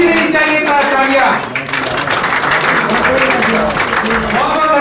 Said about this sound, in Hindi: रुकनी नहीं चाहिए था तालियां